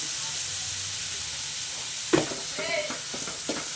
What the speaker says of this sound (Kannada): ಇದೆಲ್ಲ ಚೆನ್ನಾಗಿ ಆಯಿಲಲ್ಲಿ ಫ್ರೈ ಆಗಬೇಕು